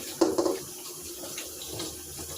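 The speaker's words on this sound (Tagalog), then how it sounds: "So, maghuhugas tayo ng plato." Tap water running into a kitchen sink while dishes are washed, a short splashy burst of flow at the start that eases into a softer steady trickle.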